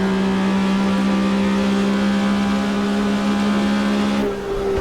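A Porsche 911 RSR 3.0 race car in Automobilista 2 on the 1970s Red Bull Ring holds a loud, steady high-revving engine drone at full throttle, with a brief dip near the end, no voices.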